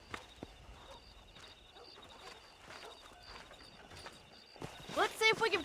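Hooves clop in a steady walking rhythm at a distance, then a horse whinnies loudly near the end, in the video game Red Dead Redemption.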